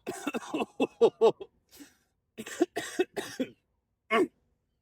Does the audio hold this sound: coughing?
yes